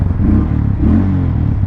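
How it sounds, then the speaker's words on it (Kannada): Hero Mavrick 440 cruiser motorcycle exhaust just after engine start, a close, loud, rumbling idle with slight pulsing and no talk. "ಎಕ್ಸಾಸ್ಟ್ ಈ ಥರ ಕೇಳಿಸುತ್ತೆ."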